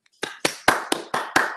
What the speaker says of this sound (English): I don't think I've had applause on a Zoom call, so this is pretty impressive.